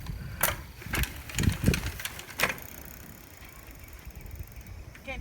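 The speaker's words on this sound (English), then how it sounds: "Let's see if we can rip a little wheelie here." A 29er Genesis Incline mountain bike rolls through a wheelie attempt with a few sharp clunks and rattles close by, then settles into quieter tire rolling.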